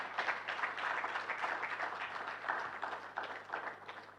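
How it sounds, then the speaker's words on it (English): Audience at a National Youth Council of Malawi launch event gives a steady round of applause, moderately distant and continuous throughout, with no talk over it. "Let's give them a very big round of applause."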